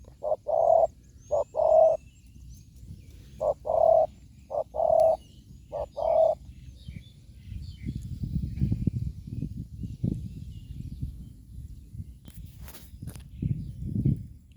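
A spotted dove coos in short, repeated phrases, loud and close, followed by quieter rustling and handling noises.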